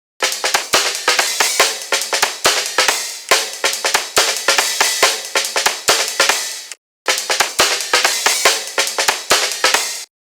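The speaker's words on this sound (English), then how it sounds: "In a third channel I added the same drum break but at double tempo" Drum break played at double tempo in Ableton Live, a fast dense run of sharp snappy hits and shuffling percussion that stops briefly mid-way then resumes, loud and alone.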